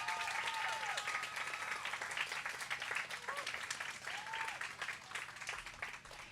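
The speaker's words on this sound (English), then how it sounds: "can we give a huge round of applause also to our co-presidents, Emily Suñez and Sally Krueger-Wyman?" Applause from a fundraiser audience at the 2024 Unity in Community event, continuous and fairly full, with a few whoops and voices rising over the clapping.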